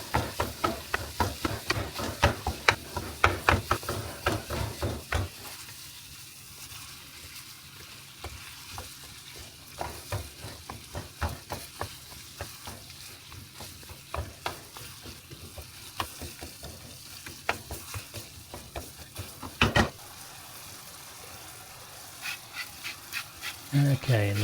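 Ground meat for Greek moussaka frying in a pan while a spatula repeatedly jabs and breaks it into small pieces, a close sizzle punctuated by rhythmic scraping stabs that ease off midway then resume.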